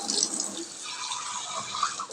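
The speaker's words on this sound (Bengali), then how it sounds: "আর একটু জল আমি অ্যাড করব" Water is poured into fish curry simmering in a pan, a steady splashing, hissing wash that runs close and fairly loud for about two seconds with no talking.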